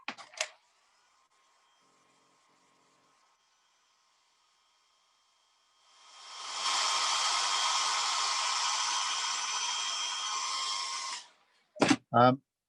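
A hair dryer blows steadily for about five seconds over a wet watercolour painting, a loud continuous whoosh that starts and stops cleanly, with brief talk before and after it.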